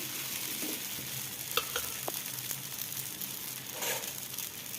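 Little millet dosa batter cooks on a hot pan, a soft constant sizzle with a few light clicks and scraping touches, close by and moderately quiet, with no talk.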